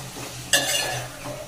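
Chopped tomatoes are stirred in a hot pan, with a sudden scraping swish over a soft background sizzle that fades after about a second.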